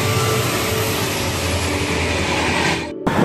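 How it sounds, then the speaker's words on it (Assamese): A train rumbles past close by in a steady, loud roar with heavy low-end, broken by a brief dropout near the end, no voices. "তো গাইস এয়া ট্ৰেইন আহি আছে আগত দেখি"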